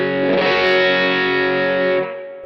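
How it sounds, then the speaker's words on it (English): Electric guitar through a Mooer Preamp Live set to a Vox AC30 style amp model, one strummed chord held and ringing with light breakup, strong and close, then decaying into quiet. "the second thing I go on to is the Vox AC30 style sound"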